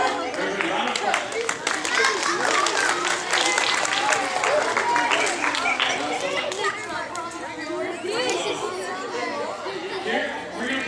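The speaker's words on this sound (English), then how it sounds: "So, everybody round of applause." A circus show audience, children among them, claps in a dense, lively round that runs the full length, mixed with loud chatter and kids' voices.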